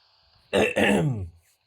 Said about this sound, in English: I'm being attacked by coughs, it seems.